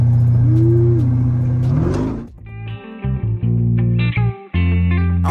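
A Dodge Durango Trackhawk engine revs hard and loud, a sustained roar with a rising pitch sweep, then drops into choppy, stuttering bursts of revving and brief cuts as the throttle is let off.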